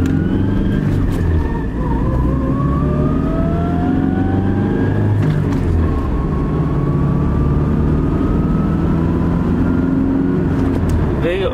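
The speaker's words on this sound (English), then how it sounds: "Will you not say that those low gears are too noisy?" Steady truck engine drone with a rising transmission whine that climbs, drops and climbs again as the low gears shift, loud and continuous throughout.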